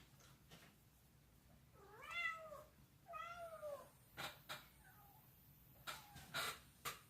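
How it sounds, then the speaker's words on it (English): Cats meow indoors in several drawn-out, rising and falling calls, each fairly close, interspersed with quiet clicks and small handling noises in a calm room. "Our cats are being brats"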